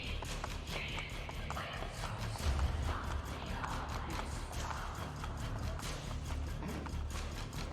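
Horse hooves in Assassin's Creed: Brotherhood: a steady, rapid clip-clop of a galloping horse running throughout, fairly close, over a low rumbling game soundscape.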